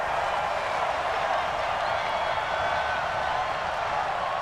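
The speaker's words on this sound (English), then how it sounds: "Well, the crowd doesn't like that." Stadium crowd noise in an NFL football video game simulation of the Chicago Bears against the Minnesota Vikings, a steady broad roar of disapproval after a penalty flag, sustained and even without breaks.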